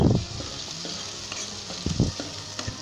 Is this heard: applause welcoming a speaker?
no